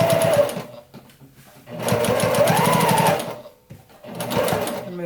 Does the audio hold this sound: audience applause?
no